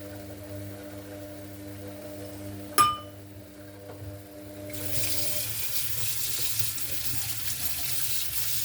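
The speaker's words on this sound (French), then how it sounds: "Moi je suis en train de laver ma cuillère" A spoon is rinsed under a running kitchen tap. A soft trickle is punctuated by a single sharp metallic clink, and then the water flow strengthens into a fuller, steady splashing stream.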